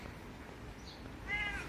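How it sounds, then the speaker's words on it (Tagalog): Kitten meowing outdoors at a family house, a brief high mewing call near the end of the stretch over low background noise. "Hello, little kittens."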